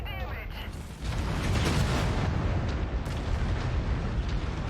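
A mech in MechWarrior 5: Mercenaries is destroyed in a loud, close explosion: a sudden roaring blast swells after a second and keeps rumbling heavily to the end, full of crackling debris.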